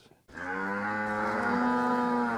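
Hereford cattle give a single long, loud moo that starts abruptly after a brief silence and holds steady for about two seconds, close and alone.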